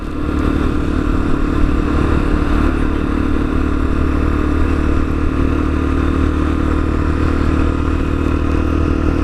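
A Lexmoto Assault motorcycle engine runs steadily throughout while riding, a loud constant drone with wind rush and faint mechanical clatter, no speech.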